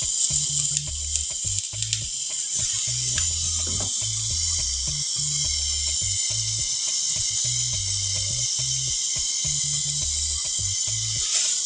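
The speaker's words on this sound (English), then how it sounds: "What I'm using to weld is oxygen and acetylene and a brass rod with" An oxy-acetylene torch brazes a fridge condenser with brass rod and flux, making a steady loud hiss and roar. A low rhythmic mechanical chugging pulses underneath throughout, and nobody speaks.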